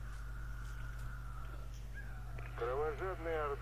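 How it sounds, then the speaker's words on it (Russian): Cawing crow calls in the video game ZOMBI: a few harsh, wavering caws near the end, over a steady low game hum and ambient drone, with no talking. "Ворона наш враг."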